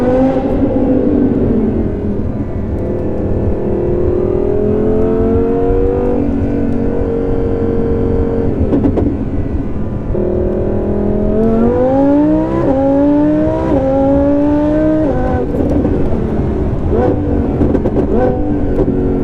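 An Audi R8 V10 Plus sports car, rated at 850 bhp, revs hard while driven on the road, its engine pitch climbing and dropping through repeated gear pulls, loud and continuous with no talking.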